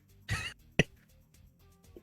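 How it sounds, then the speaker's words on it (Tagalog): A person coughs twice, one harsh drawn-out cough followed by a shorter sharp one, close and fairly loud against a quiet background. "O lagi kang may ubo."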